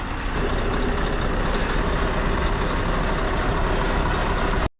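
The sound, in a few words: truck air suspension being filled with air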